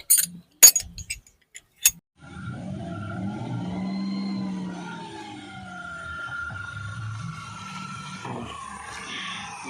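A Maruti 800 with raised rear height is driven, starting with a few sharp clicks and knocks, then a low engine hum that rises and falls steadily as the car moves along.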